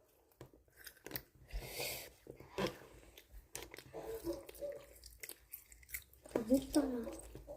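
Close, crunchy chewing and biting of food during a sibling mukbang, in irregular bursts with soft mouth sounds, mixed with brief quiet talk.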